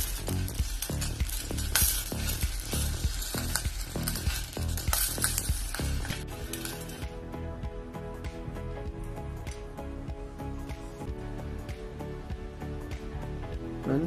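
Prawns cooking over medium heat in spicy garlic butter give off a steady close sizzle and frying crackle, with bursts of stirring and scraping in the pan that ease off about halfway through.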